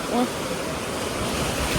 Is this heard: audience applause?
no